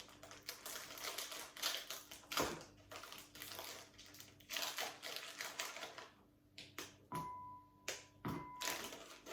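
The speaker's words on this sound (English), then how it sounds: "you're going to get your bar of dark chocolate, and you're just going to break it into smaller pieces" A bar of dark chocolate snapped by hand into smaller pieces over a bowl for brownies, heard as a run of close, sharp cracks and brittle clicks with brief pauses.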